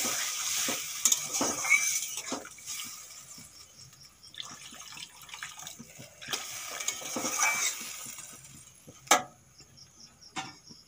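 Fried potatoes and spices in a pan take on added water and sizzle and bubble steadily at close range. Scattered stirring clinks and a sharp knock near the end sound over it, and there is no talking.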